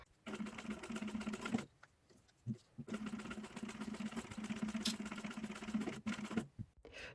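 A sewing machine stitches a fabric zipper pouch in long steady runs, its motor whirring in two bursts separated by brief pauses and small clicks, close and moderately quiet.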